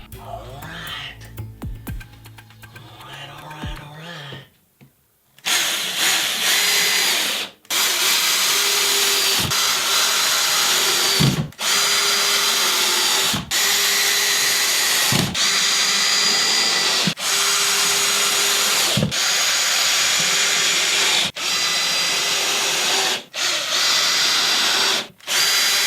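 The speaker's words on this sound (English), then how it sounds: "And then I'll start putting drywall screws in it." Power drill driving drywall screws up into ceiling blocks, heard as a series of loud sustained whirring bursts separated by short pauses, close by, after a quieter stretch of talk at the start.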